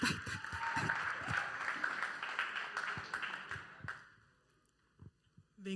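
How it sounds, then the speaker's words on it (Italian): Group applause at a youth church service, a dense wash of clapping filling the room for about four seconds and then fading out, followed by a few scattered faint sounds. "facciamo un applauso per incoraggiamento per Alessia"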